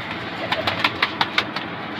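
Pigeons in a loft in Bhaktapur give a run of soft, rhythmic coos, repeated close by in quick succession over a quiet background.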